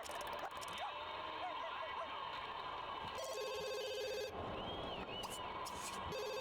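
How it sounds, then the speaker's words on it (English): A telephone rings in The Sims 2 video game, its repeated bell bursts sounding under background game music and effects at moderate level. "another phone call from the same old lady"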